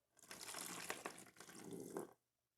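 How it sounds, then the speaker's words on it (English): Water poured out of a container holding Monstera roots and old mulch, a steady splashing stream lasting about two seconds with a brief dip midway, close and fairly loud, then stopping abruptly. "I'm going to pour some of this back out"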